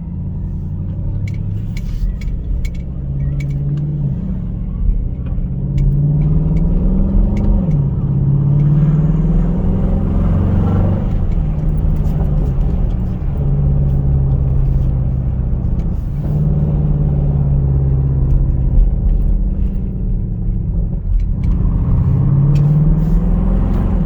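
A Dodge Durango SRT with a 392 V8 Hemi driving at night gives a continuous deep engine rumble from inside the cabin, rising and falling gently as the throttle shifts, loud and steady with no speech.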